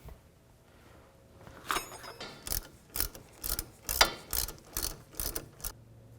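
A ratchet clicks in quick bursts while tightening the brake caliper slide bolts on a 2000-2007 Ford Focus, sharp metallic pawl ticks near and moderately loud in uneven groups, with no voices.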